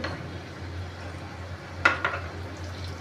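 A spoon turning sweet fasting kachori in a pan on a medium-low flame, two sharp metallic clinks close together against the pan over a soft, quiet frying hiss.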